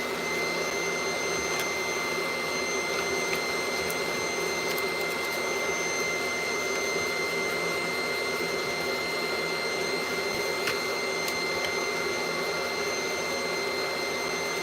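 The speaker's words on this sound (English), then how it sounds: "I'm gonna get a vacuum and kind of vacuum this up as I go" A Dyson V11 cordless vacuum cleaner runs steadily with a constant whining drone and airy roar at even volume, close and unbroken, with no talk.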